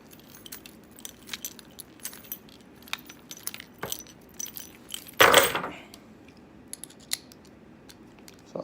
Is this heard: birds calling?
no